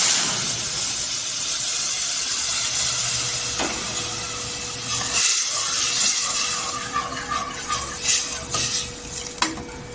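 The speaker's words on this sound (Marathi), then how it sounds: "इथे डाळ फोडणीला दे." Dal tipped into a hot tempering of reddened garlic, red chilli powder, turmeric and coriander powder gives a steady hiss and sizzle with faint stirring and pot clinks, close and continuous without talk.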